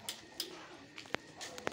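Soft, low pigeon coos close by, a few short calls spaced irregularly, with small sharp chirps and faint background noise.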